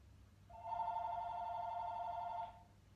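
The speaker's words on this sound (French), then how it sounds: "le téléphone qui sonne. Ben, je réponds pas" A telephone rings in one long, steady electronic trill lasting about two seconds, clear and fairly close against a quiet room with faint background hum.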